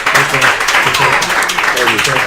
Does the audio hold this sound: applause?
yes